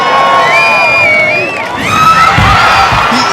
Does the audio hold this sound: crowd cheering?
yes